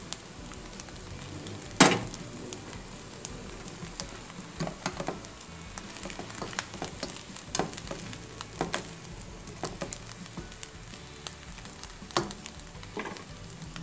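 Fried rice with vegetables and soy sauce sizzles steadily in a pan, with a sharp clatter near the start and scattered scraping and tapping from stirring throughout, no voices.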